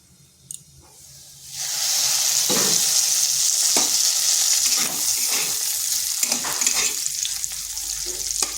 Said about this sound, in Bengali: আলুটা একটু ভাজা ভাজা করে নিয়েছি।